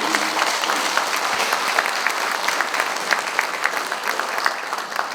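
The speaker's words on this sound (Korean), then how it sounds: "두 분 박수" A crowd at a governor's town-hall dialogue with Tongyeong citizens applauds two provincial councillors, a dense, sustained round of clapping from many hands, loud and steady throughout with no talk.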